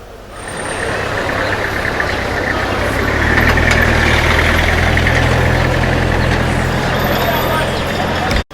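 Congested traffic in Yaoundé, Cameroon, holds a dense rumble of idling trucks and cars. Engines throb low and steady at close range, a brief hiss of air brakes rises partway through, and voices murmur underneath.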